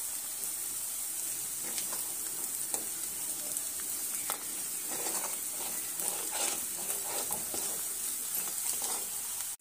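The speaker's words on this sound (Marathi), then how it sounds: "आल्याचा आणि लसणाचा खमंग वास येईपर्यंत त्याला पहिला परतून घ्यायचा आपण" Ginger and garlic sauté in a pan for a potato curry, giving a soft, steady sizzle with occasional light stirring scrapes, fairly faint and continuous.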